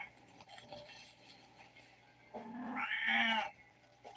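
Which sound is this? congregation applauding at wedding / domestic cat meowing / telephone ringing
domestic cat meowing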